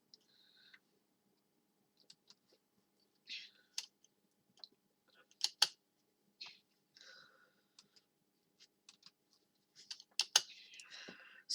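Scattered keystrokes tap on a computer keyboard while an ipconfig renew command is typed, quiet and close, with sparse clicks and pauses between short bursts.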